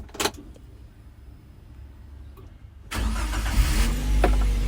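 A Daihatsu Gran Max 1.3 pickup's engine cranks and catches after a quiet moment and a brief jingle of a metal key, then settles into a steady, loud idle heard from inside the cab.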